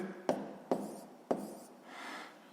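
Pen strokes writing out a sixth-grade maths exercise: three short, sharp taps of the pen on paper at uneven intervals, then a soft scratch, quiet and close in a still room.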